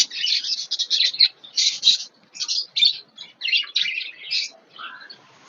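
Small birds chirp and call in quick bursts on a rooftop where pigeons are being fed, the bright twittering loud and close with brief gaps, ending in a softer lower call.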